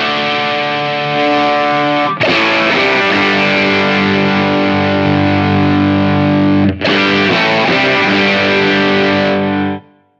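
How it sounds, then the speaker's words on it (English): Electric guitar through a Kismet overdrive/distortion pedal at high gain: thick, saturated sustained chords played loud and close, with two brief breaks where new chords are struck, ending abruptly. "Now let's say I want more gain, and I want to save that to preset four."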